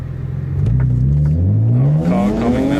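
BMW E46 M3 accelerating hard, engine note climbing steadily with a quick aggressive gear change where the pitch drops and then rises again, loud and close from inside the car.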